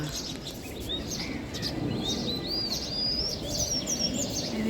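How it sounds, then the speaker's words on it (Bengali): An oriental magpie robin sings a series of clear, whistled notes and phrases over a low, steady outdoor background on a rooftop garden. "ওই যে দোয়েল কি সুন্দর ডাকছে"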